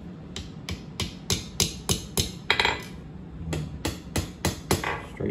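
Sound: hammer forging a hook on a coal swab

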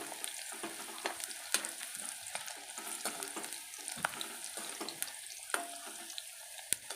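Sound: okra frying in oil while being stirred

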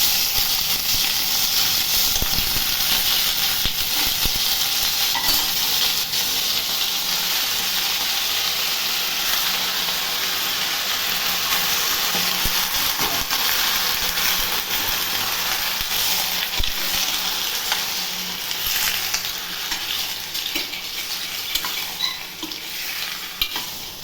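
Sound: chicken pieces sautéing in pan for curry

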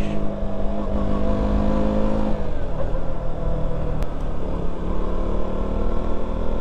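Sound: KTM Duke 200 motorcycle engine revving on a night ride

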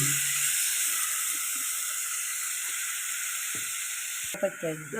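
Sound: onion added to browned garlic, frying in pan

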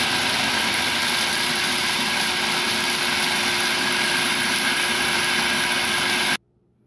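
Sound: food processor grinding pork rinds (chicharrón)

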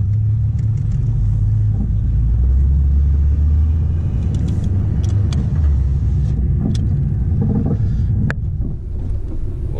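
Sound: car engine rumbling

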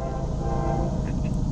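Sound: CSX freight train passing

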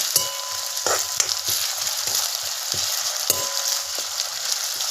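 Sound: potatoes frying in a pan for sabudana khichdi

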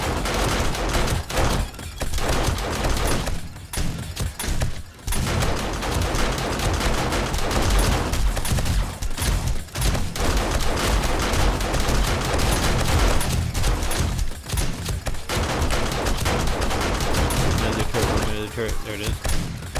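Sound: turret gunfire in a video game

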